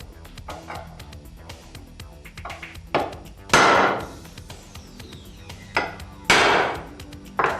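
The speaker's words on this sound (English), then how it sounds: "I'm going to go ahead and use the punch to make my divots." Sharp metallic hammer strikes on a center punch marking metal ring out irregularly, some light taps and several hard ringing blows, close by with no talking.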